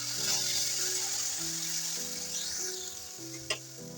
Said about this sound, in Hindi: अब मसाले को भून लेते हैं।